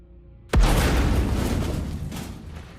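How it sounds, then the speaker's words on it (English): Dynamite going off in an indie video game, a single sudden heavy boom after near silence, followed by a deep rumbling roar that slowly fades. "Man, that explosion came right for me."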